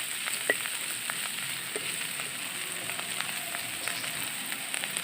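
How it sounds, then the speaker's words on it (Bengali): Bitter gourd and potatoes frying in a pan, a steady close crackling sizzle with scattered small pops throughout, no speech over it. "করলা আলু ভাজি করতেছি।"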